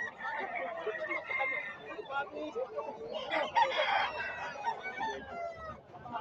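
Bull stag roosters crow loudly at the Bocaue pet market, several calls overlapping amid people chattering and a busy market background.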